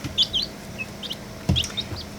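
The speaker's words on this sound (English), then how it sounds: "6 chicks." Six small chicks chirp nearby in a quiet homestead setting, thin high peeps in scattered short bursts, a few overlapping, with soft low bumps and shuffling between them.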